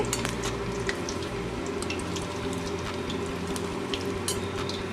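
Pumpkin fritters frying in oil in a wok, a dense continuous bubbling sizzle close up with occasional crackles, no talking.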